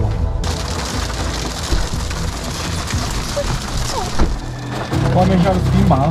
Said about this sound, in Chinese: 外面下的冰雹